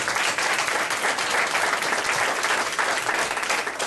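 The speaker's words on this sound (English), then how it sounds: "give yourself a round of applause" Steady, dense applause from a large charity concert audience fills the whole stretch, loud and continuous without a break.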